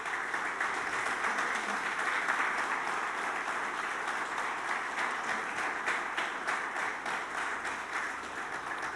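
Church congregation applauding during a Spanish-language worship service, a steady broadband wash of many hands clapping at moderate distance, sustained evenly throughout with a faint murmur of voices underneath.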